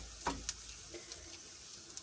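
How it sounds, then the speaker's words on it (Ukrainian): Steady sizzling of potato rings frying in butter in a pan, with a couple of brief scraping clicks from stirring near the start. "Ось так от воно в нас смажиться"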